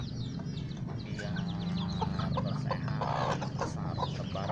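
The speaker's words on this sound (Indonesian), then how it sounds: "Inilah ayam-ayam saya sedang dikasih makan banyak" Free-range village chickens cluck steadily while being fed, a dense flock of short, overlapping calls close by over a constant low background rumble, with no speech.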